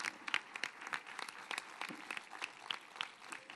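Scattered, fairly faint applause rises for the new festival lady at a town's patronal fiesta proclamation, with sharp individual claps standing out in a loose, uneven rhythm.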